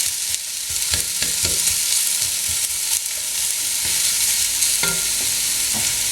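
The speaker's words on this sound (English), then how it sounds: "Just breaking them up with my spoon." A spoon stirs and breaks up softening onions frying in oil in a pan, scraping and knocking in an irregular rhythm over a constant close sizzle.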